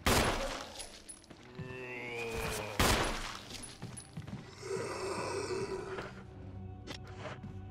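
Gunfire from the video game Resident Evil Remake HD as an enemy is shot: several sharp loud shots, near and punchy, among game sound effects and a droning mechanical background, with no talking.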